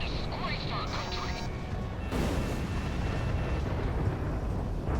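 A game explosion from Ace Combat 6 on Xbox Series X erupts as a heavy rumbling blast, with a loud crashing burst about two seconds in that rolls on as dense low roar, mixed with radio chatter and voices.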